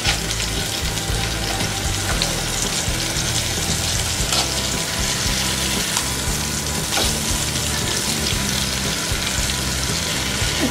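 Chicken pieces for tandoori chicken sizzle steadily in a pan on a gas stove, a loud continuous frying hiss with faint stirring and turning noises throughout, no voices.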